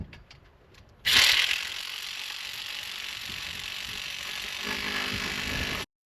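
Ratcheting on T-post corner brace fittings being tightened on a sloped fence line, a steady continuous mechanical whirr-like clicking running for about five seconds at close range with no talk.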